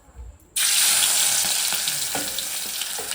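Garlic and green chili hit very hot oil for a crab curry, bursting into a loud, dense sizzle after a short quiet moment and holding steady with faint crackles throughout.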